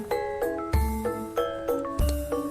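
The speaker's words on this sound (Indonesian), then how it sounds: "Gong suwuk memiliki fungsi sebagai tanda akhir dari sebuah musik sebelum gong ageng dibunyikan." A gong suwuk, a medium-sized Javanese gamelan gong smaller than the gong ageng, struck among other gamelan metallophones: clear, loud ringing metallic strikes with sustained tones and low booming onsets in a steady rhythm.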